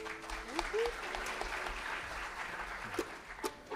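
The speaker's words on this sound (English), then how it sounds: "So I'll give him a round of applause." Audience applause at a mountain dance and folk festival, a steady wash of clapping sustained throughout, with a few brief voices and stray tones poking through the crowd noise.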